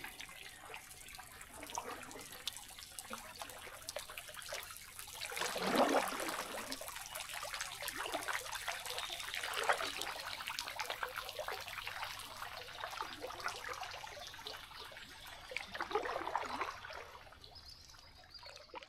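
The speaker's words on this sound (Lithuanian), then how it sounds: "Ir kriokliukai." Small waterfalls trickling over rocks along a river on a kayaking trip, a soft continuous babble and splash of running water that swells and fades gently at moderate distance.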